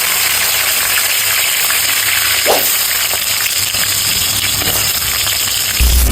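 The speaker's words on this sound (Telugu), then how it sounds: "ఆనియన్స్ వేయండి." Onions frying in a pan of hot oil with cumin, mustard seeds and curry leaves, a loud steady sizzle and hiss close up throughout, with no talking.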